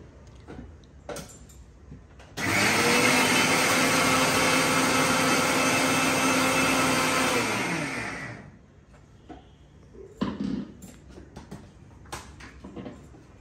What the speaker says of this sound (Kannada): ನುಣ್ಣಗೆ ಇದನ್ನ ರುಬ್ಕೊಳ್ಳೋಣ